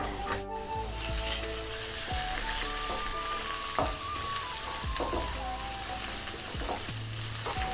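Onion and red chilli frying in a pan for upma, a close, continuous crackling sizzle with occasional spatula scrapes and clinks against the pan, no voices over it.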